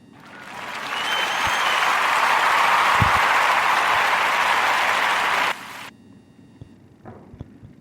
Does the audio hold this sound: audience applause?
yes